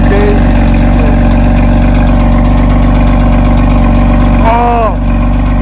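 A BMW M3 CS F80 engine idles loudly and close by, a deep, steady throbbing rumble with a slight change in pitch near the end, while a voice talks over it.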